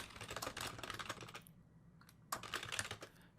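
Rapid keystrokes on a computer keyboard while entering comment text into a software editor, a close, steady burst of clicks that pauses briefly in the middle and then resumes.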